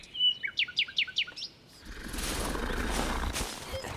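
A magic bird in an animated cartoon gives a quick series of bright, rising chirps, about eight in a row, then a louder, rushing, noisy wash of sound takes over.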